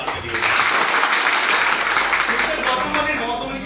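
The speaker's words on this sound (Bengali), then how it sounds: "আমি চাইবো স্যারের জন্য একবার জোরদার হাততালি দিই।" Sustained, loud applause from a crowd at a company gathering in honour of the managing director, dense clapping that carries steadily throughout with murmured voices faintly underneath.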